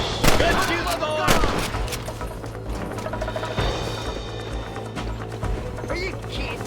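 Gunfire in the Western video game Red Dead Redemption: several sharp shots ring out among ongoing rumble and clatter, with voices talking over the action.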